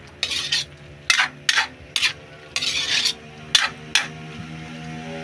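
Bicol Express being stirred in a pan, a spoon scraping and rasping against the metal in about eight short separate strokes, close and alone with no talk.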